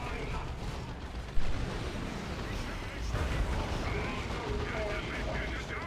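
Dense gunfire and artillery blasts in an Orks real-time strategy video game, a continuous loud rumble of shots and explosions with one sharp bang early on, with a voice talking over it.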